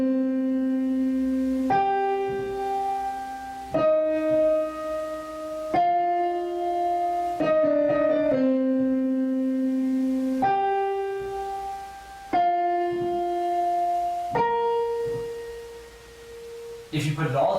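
Piano plays a piece in octaves: sustained held notes change every couple of seconds, each ringing clearly and alone at moderate volume.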